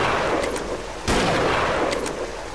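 Rifle shots ring out in the hunting game Deer Drive: one loud, close blast with a booming tail, plus fainter sharp cracks before and after it, and no talking.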